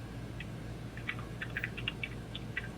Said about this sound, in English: I've got that mechanical keyboard.